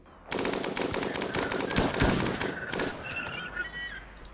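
Rapid automatic gunfire from a colony firefight in the video game RimWorld, dense bursts of shots running from about 0.3 s to 3 s, loud and close, then easing off into quieter scattered game sounds.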